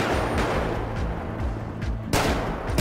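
Gunfire in a GTA 5 police-mod military and SWAT patrol, a loud, dense stretch of rapid automatic shots close by, with a heavier burst near the end, and no talking over it.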